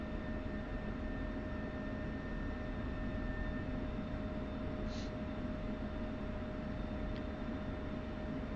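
A jet engine in the DCS flight simulator drones at a steady, moderate level through an aircraft's takeoff roll on the runway, with a high constant whine over a broad rumble and no voices.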